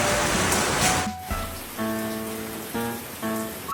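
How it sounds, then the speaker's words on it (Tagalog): Heavy rain pours steadily outside during home cooking, a dense continuous hiss in the background, with clinking and a few tonal kitchen sounds over it. "napakalakas ng ulan sa background"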